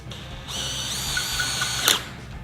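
A power drill whines as it drives a GRK Caliburn bugle-head screw, the motor note steady for about two seconds before a brief louder burst as the screw seats, close and alone.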